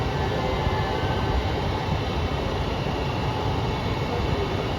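A JR Kyushu one-man local train bound for Mie-machi, at platform 6 of Oita Station, arriving while making an abnormal noise: a loud, continuous rumbling roar that stays close and steady throughout, with no voices.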